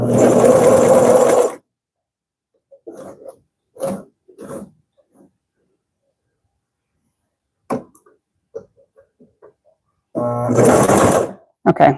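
Consew CP206RL portable walking foot sewing machine stitching in two loud bursts at the start and end, with quiet handling clicks and knocks between them.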